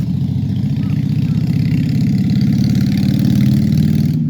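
A deep, throbbing motorcycle engine idles steadily up close, its low pulsing rumble continuous and loud from start to finish.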